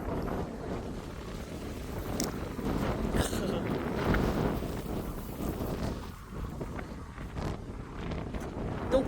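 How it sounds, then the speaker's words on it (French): Gusty wind in a garden buffets the microphone with a low, uneven roar that swells and eases over several seconds. "Oh, ce vent."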